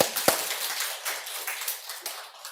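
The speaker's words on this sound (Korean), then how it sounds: "우리 박수합시다." A church congregation applauds, a soft, fairly distant patter of many hands clapping steadily for a couple of seconds.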